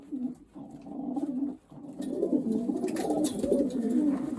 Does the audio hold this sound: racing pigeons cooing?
yes